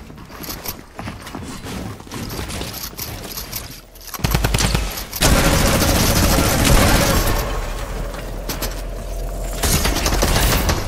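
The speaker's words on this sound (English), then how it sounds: "That gun is annoying me." Rapid bursts of gunfire from the Fortnite video game (OG Chapter 2) rattle on throughout, growing louder and denser about halfway through with sustained fusillades over other game noise.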